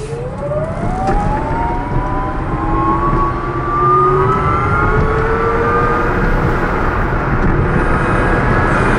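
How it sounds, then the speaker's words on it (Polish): Re.volt electric carsharing car in Prague driving and accelerating, its loud motor whine rising steadily in pitch like a siren, with road rumble underneath and no talk. "Jeżeli ktoś powiedział Wam, że samochody elektryczne są ciche, to kłamał."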